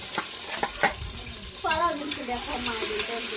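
Mutton curry stirred and frying in a pan, a steady sizzle with scraping spoon strokes across the clip, close up, a faint voice briefly in the background.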